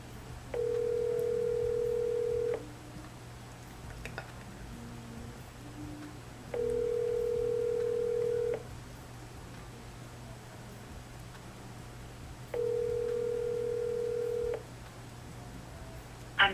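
Phone ringback during a prank call, three long steady tones, each about two seconds with long silent gaps between, clear and fairly loud over a faint background hum.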